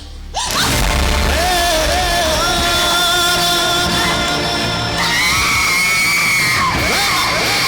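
A performer in a stage drama lets out a long, loud anguished scream that wavers and breaks into a second drawn-out cry, dominating the scene with little else behind it.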